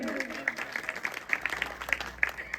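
Audience applause at a large poetry gathering (kavi sammelan) in Neri, Sitapur: a fairly faint, steady patter of many hands clapping, with a voice briefly audible at the start.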